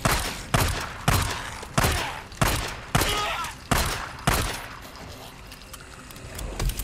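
Pistol fire in the video game Days Gone: six sharp, loud shots at a steady, fairly quick rhythm, each with a short decaying tail, then a quieter stretch of background game ambience.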